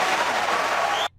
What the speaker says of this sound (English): the applause for what Rudy Giuliani just said goes on for like 30 seconds